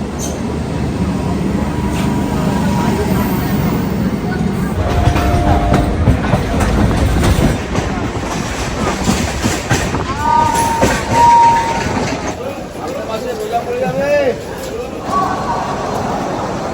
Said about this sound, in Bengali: এখন ট্রেন এসে গেছে, চলো আগে যাই শিয়ালদা।